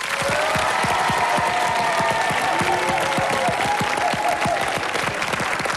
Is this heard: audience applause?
yes